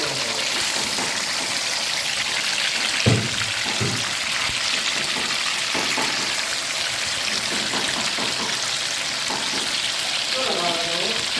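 Chicken fries with browned onions in a kadai, with a constant bright sizzle and occasional thuds and stirring scrapes. A faint voice is audible late in the clip.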